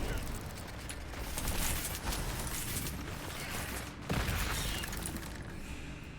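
Incendio fire spell cast in a Harry Potter video game: a sudden whooshing burst of flame that flares sharply near the middle and then trails off, over a steady rumbling game background.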